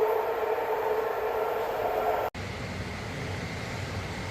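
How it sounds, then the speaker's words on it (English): A BART train arriving, a loud continuous rolling rumble with a bright metallic hum that cuts off abruptly partway through, leaving a quieter steady background hum. "Oh, here comes the BART train."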